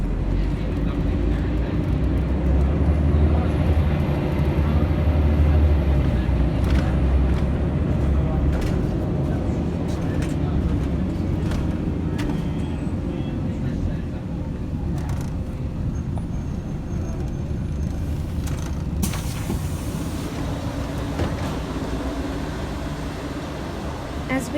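A Scania L113CRL Ansair Orana bus on a Sydney route drives with a continuous low engine drone and road rumble from inside the cabin, and sharp hisses of its air brakes come near the end while a voice talks at times.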